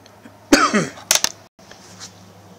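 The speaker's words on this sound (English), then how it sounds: "Sorry for the sneezing, the blowing my nose, or coughing" A man coughs close to the mic, one harsh rasping cough followed by two short sharp coughs, then quiet room tone.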